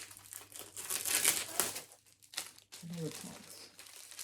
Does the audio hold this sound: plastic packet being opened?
yes